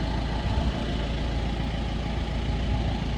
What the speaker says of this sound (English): So just turning the engine over, letting it warm up, listen for any noises